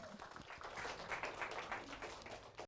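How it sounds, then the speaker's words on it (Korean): A conference audience at a volunteer talk event claps steadily to welcome the next speaker, a dense, even wash of applause that stays faint and distant and fades out at the end. "발표자 모실 테니까 큰 박수로 맞아주세요."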